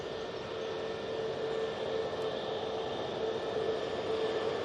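A Jet2 airliner on approach at Manchester Airport, a steady broad jet roar with a faint whining engine tone, sustained and fairly even in loudness at moderate distance.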